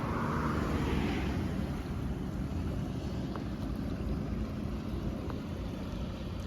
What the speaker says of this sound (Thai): น้ำไหลนะครับ